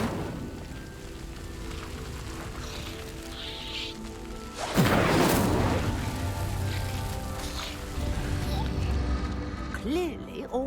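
A fire spell is cast in the Hogwarts Legacy video game: a sudden loud whooshing burst erupts midway through the clip and trails off into crackling, layered over game music and ambient effects.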